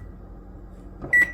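A kitchen oven being switched on and set to 325 degrees, heard as a low, quiet hum followed by a clunk and a single short electronic beep near the end.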